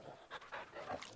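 A dog panting in short, breathy bursts while being petted in Final Fantasy XVI, several quick puffs close up and fairly quiet, with no talk over them.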